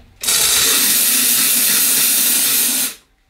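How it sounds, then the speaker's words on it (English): A Dupray Neat steam cleaner blasts a loud, steady hiss of steam into a sink for almost three seconds, starting abruptly and tapering off quickly, close and alone without talking. "I direct the steam here"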